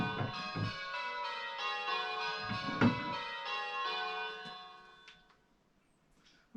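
A church bell, rung as bell number 2 on a bell-ringing simulator, sounds with a rich, sustained tone, struck a few times and then left to fade away into near silence.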